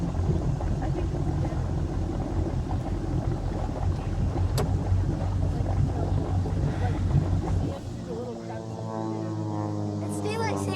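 A boat engine idles on the water near Nashville, Tennessee, a steady low rumble with wind buffeting the microphone that drops to a quieter, smoother hum partway through.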